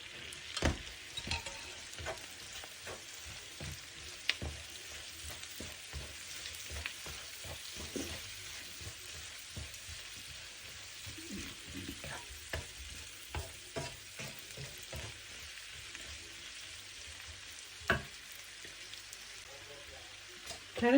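Onion and two large chopped carrots sauté in a pan, with a continuous sizzle broken by frequent scraping stirs throughout.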